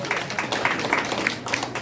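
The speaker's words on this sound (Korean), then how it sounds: "왜 답변이 나오시면 박수 한번 주십시오." An audience at a commemorative event for the centenary of Han Yong-un's poetry collection claps in a steady, moderately quiet round of applause.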